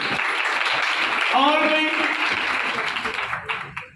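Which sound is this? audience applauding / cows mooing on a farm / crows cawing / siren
audience applauding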